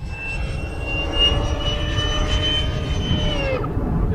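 A Starmax F-18 RC jet with a 2100kv motor whines steadily on its stock speed controller, a loud high-pitched electric motor tone with harmonics that holds for about three and a half seconds, then abruptly drops off as the controller fails.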